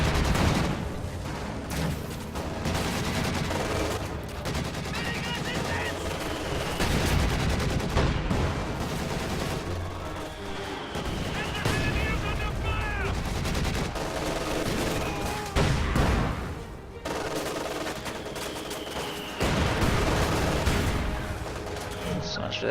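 A WWII video game battlefield erupts in a dense artillery barrage, with rolling booms and crackling gunfire layered continuously and loudly throughout, and bursts overlapping one another.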